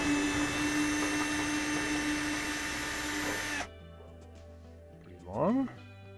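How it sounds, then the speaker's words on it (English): Power drill spinning out screws on a Frigidaire gas dryer during repair, a loud steady whine that cuts off abruptly, followed by quieter hum and a brief rising whir near the end. "All right, let's undo those screws."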